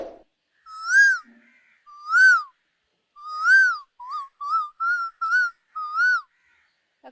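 A woman imitates the call of a koel with a series of clear, rising whistled notes. A few longer notes come first, then a quicker run of shorter ones. The sound is close and fairly quiet, with no talk.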